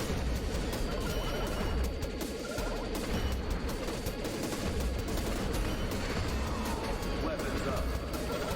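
Continuous rapid weapon fire from the sci-fi game Interstellar Sentinel, a dense steady rattle of shots running the whole time at even loudness, with other game sounds mixed in.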